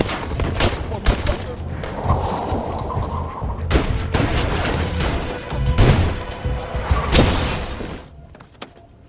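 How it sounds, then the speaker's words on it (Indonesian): A film shootout erupts in a dense, loud burst of gunfire mixed with shattering and crashing impacts, continuous for several seconds before fading. "dan baku tembak pun terjadi."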